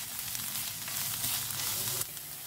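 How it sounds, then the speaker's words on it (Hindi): Ginger-garlic paste and onion fry in a pan over a medium flame, giving a steady, close, bright sizzle with a faint stir, and no voices. "तो अदरक लहसुन का पेस्ट और प्याज को हमने अच्छे से फ्राई कर लिया है।"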